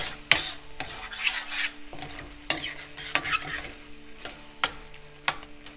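Tomato paste is stirred into a tomato sauce in a pan for shakshuka, with repeated sharp spoon scrapes against the pan at a loose rhythm over a low sizzle.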